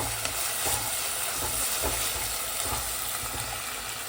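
Onion, ginger, garlic, green chili and curry leaves sizzle steadily in a pan for a coconut-milk fish curry, a close, continuous frying hiss with faint stirring scrapes and no talk.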